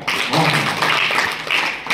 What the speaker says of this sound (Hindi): इस सवाल को पूछने के लिए बच्चे के लिए तालियां बजाएं।